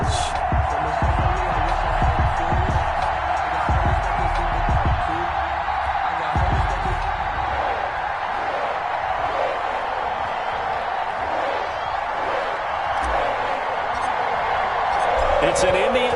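Broadband stadium crowd roar from EA Sports football on PS4, Chargers versus Bengals, running steady and loud for the whole stretch, with a sports commentator speaking over it.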